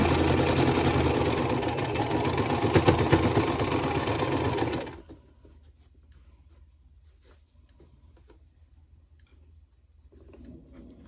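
A sewing machine stitches quilt block seams, a loud steady mechanical whir for about five seconds that then stops, leaving near silence with faint handling noises.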